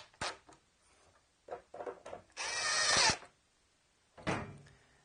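A power drill drives screws into a wooden retro gamer coffee table, one loud sustained whirring burst between scattered knocks and handling clatter, then a shorter burst at the end.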